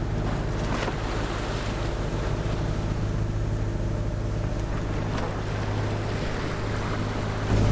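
Sailboat under way on the open sea, bound on a 300-mile passage to Belitung in Indonesia, with steady wind roaring across the microphone and constant waves rushing against the hull, a continuous loud wash with no voices.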